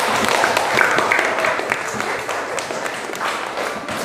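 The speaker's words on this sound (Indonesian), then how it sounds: "Tepuk tangan dulu." Classroom students applauding together at the end of a lesson, a loud continuous patter of many hands filling the room, with some voices mixed in.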